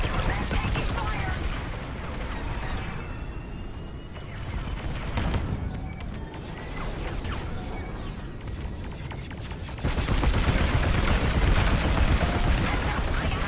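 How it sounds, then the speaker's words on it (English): Heavy blaster fire and explosions in the Star Wars: Squadrons space combat game, a dense, continuous barrage of rapid shots and blasts that swells louder toward the end. "Under heavy fire. They're taking fire."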